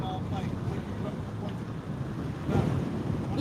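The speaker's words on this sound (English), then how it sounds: "It's a very windy day." Strong wind at sea buffets the microphone on a warm, windy day at the finish of an Atlantic ocean rowing race, a rough steady roar mixed with wash of waves that surges louder near the end.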